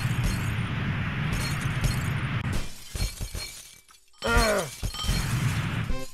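Glass shatters in the Happy Wheels video game, a loud crash with a burst of tinkling shards over continuous game noise and music, followed by a second bright, ringing break.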